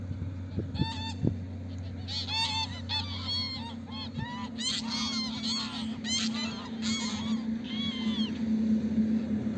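A flock of geese honks repeatedly and overlapping, steady bursts of nasal calls over a low background hum.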